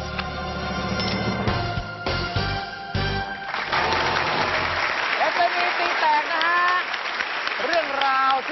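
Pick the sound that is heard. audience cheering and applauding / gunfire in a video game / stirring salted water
audience cheering and applauding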